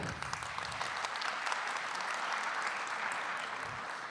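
Audience at a round-table discussion applauding, a sustained wash of many hands clapping at moderate distance, steady for several seconds with no voices over it.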